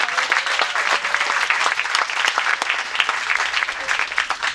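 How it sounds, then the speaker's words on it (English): An audience applauds students at a poetry reading, with dense, even clapping that is sustained at a steady moderate level for several seconds and has no cheering or talk on top. "Let's have another round of applause for our students."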